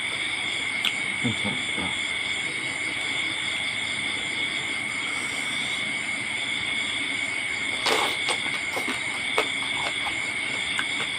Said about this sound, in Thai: ฟังเสียงกบอีกครับเลย